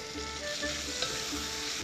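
Tomato paste and flour frying together in a pan, a steady close sizzle with light stirring scrapes throughout, no voices.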